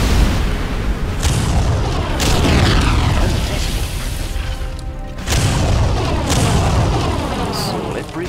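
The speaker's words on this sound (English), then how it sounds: "Particle cannon activated." Heavy booming blasts and rumbling explosions from a particle cannon strike in the Command and Conquer Zero Hour strategy game, with loud repeated detonations over about eight seconds, game voice lines briefly heard.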